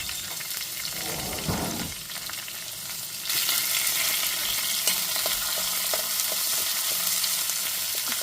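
Onions and curry leaves sizzle steadily in hot oil for chayote kootu, a dense continuous frying hiss that grows louder partway through as they hit the pan, with faint stirring clinks and no talk.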